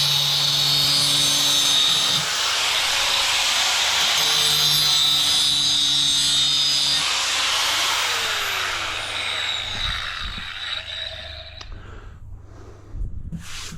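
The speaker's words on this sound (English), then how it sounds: "Pull out the old faithful grinder." An old grinder trimming down a DIY door, a loud sustained abrasive whir with a shifting whine that winds down near the end, followed by a few faint knocks and handling sounds.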